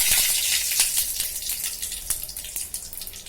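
Mustard seeds and curry leaves sizzle in hot oil for an egg and greens stir-fry, a close hissing fry dotted with sharp crackling pops that gradually thin out.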